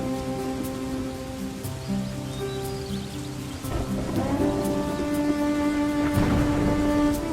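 Heavy rain pours steadily on a surface, a dense continuous hiss that swells louder toward the end, with faint tonal background sounds mixed in.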